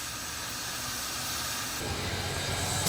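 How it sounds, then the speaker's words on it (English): An oil fire roars in the firebox inside the cab of the Big Boy steam locomotive, a steady loud hiss and rush that swells slightly partway through, with no talk. "You can hear the fire burning, the oil fire."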